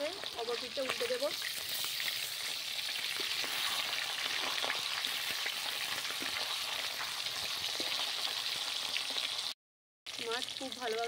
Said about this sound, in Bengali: মাছ খুব ভালোভাবে ভাজা হয়ে গেছে,